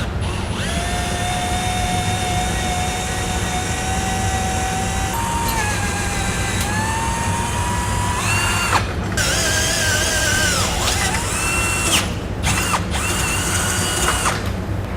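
A power drill bores a hole, stepping up through bit sizes to 5/16 inch, while Air Lift LoadLifter 5000 rear air helper springs are installed; a loud, steady motor whine climbs and shifts pitch between bits, with brief gaps and no talk.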